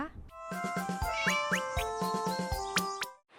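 A cat meows several times, close by, over a busy backdrop of rhythmic clanking and tonal background noise with no clear talk.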